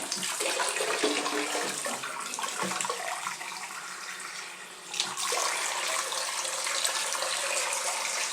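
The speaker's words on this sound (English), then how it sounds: "Turn that tap on, get that water going through." A plumbing tap gushes water in a loud, steady rush. It dips briefly near the middle, then surges back at full force.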